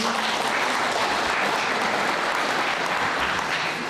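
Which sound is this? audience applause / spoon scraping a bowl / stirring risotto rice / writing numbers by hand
audience applause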